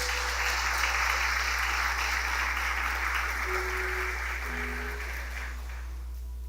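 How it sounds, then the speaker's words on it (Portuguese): Congregation applause during a church sermon, steady broadband clapping across the room under a constant low hum, tapering slightly toward the end while a faint tone or voice rises briefly. "dá uma forte salva de palmas ao Senhor"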